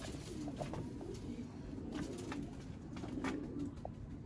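A female pigeon coos softly in a series of low, rounded coos repeated at an unhurried pace, quiet and close, with faint background noise and no talking.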